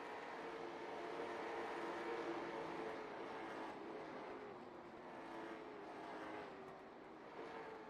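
Race cars at Langley Speedway sound as a distant engine roar that swells and fades as one passes. The race continues faintly in the background and no one speaks.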